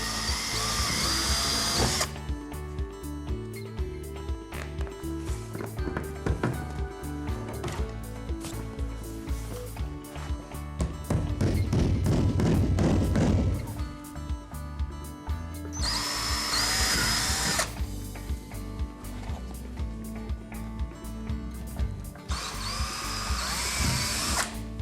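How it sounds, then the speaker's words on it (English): Power drill driving screws into an air chute, repeated bursts of whirring drill motor with short pauses between runs, close and clear with no talking. "we're going to screw into that and fasten it with the hardware provided"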